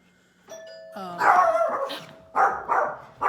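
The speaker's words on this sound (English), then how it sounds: "And my dog, gone nuts because of the doorbell." A ding-dong doorbell chimes indoors, then a dog breaks into loud, close barks in short bursts over the fading chime.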